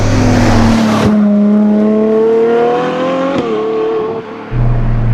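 Ferrari F12 TDF V12 revving hard on the road, a loud sustained engine note rising and falling through gears with a quick shift blip midway, close and continuous without any talking.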